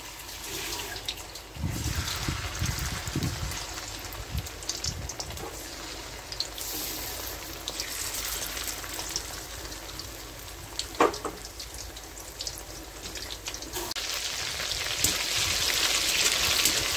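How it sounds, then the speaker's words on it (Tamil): Prawns frying in hot oil give a continuous, dense sizzling hiss throughout, close and steady, with a few louder crackles and a rise in intensity toward the end. "இந்த பிரானை எண்ணெயில் போட்டு நல்லா பொரிச்சு எடுத்துடலாம்."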